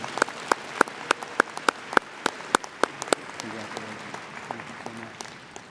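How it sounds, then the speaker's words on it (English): Applause at an annual business meeting: sparse, distinct claps from a small audience, spaced out over the first few seconds and then thinning. A voice starts speaking underneath as the clapping dies away. "Let's give them a round of applause for what they've done"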